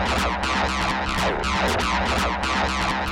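A 303 acid synth loop run through Ableton's Echo effect at 50% dry/wet, with dense, continuous resonant sweeps and repeating echoes that fill the whole stretch at steady loudness, no talking.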